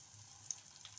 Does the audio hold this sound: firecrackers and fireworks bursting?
no